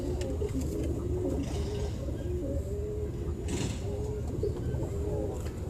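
A golden pigeon, the main bird of a breeding bloodline, coos in low repeated phrases through steady background noise, with faint chirps of other birds scattered above.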